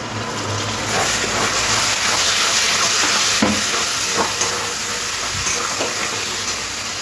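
Tomato paste sizzling in a pan of masala chicken curry, a steady loud hiss with faint crackles and a few soft knocks, no talking.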